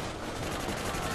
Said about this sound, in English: They're just constantly shooting at me like dickheads.